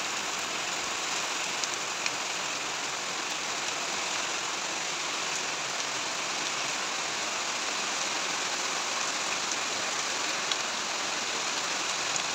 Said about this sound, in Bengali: কাজের ফাঁকি এতটা বৃষ্টি হচ্ছে, দৌড়িয়ে চলে আসলাম বারান্দা শুকনো কাপড়ের জন্য